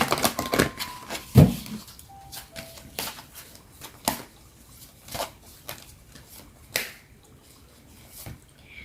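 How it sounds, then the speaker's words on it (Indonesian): Oracle cards from a Teen Angel deck being shuffled by hand, a run of crisp riffling flicks followed by scattered soft taps and slaps in an irregular rhythm, close and quiet with no talking. "Aku akan menarik satu kartu dari Teen Angel Oracle Card."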